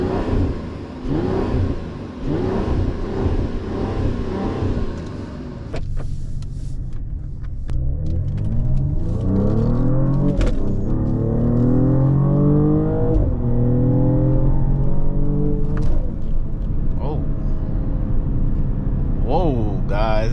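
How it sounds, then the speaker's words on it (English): A 2024 Mercedes-Benz AMG GLE 53 engine revving at night, a deep loud rumble that swells and climbs in pitch through several rising sweeps before settling, heard from inside the cabin with a voice talking over the start. "Let me give you guys a couple revs."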